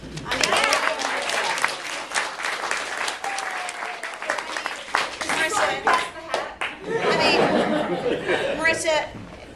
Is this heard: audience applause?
yes